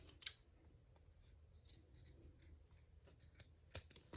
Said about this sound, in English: take my scissors and just do like a little small snippet so it'll turn a little easier